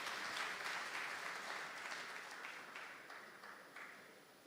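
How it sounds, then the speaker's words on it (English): Audience applause at a technical talent summit, a diffuse crowd clapping heard from a distance, fairly faint and gradually fading over a few seconds. "A round of applause for her, please."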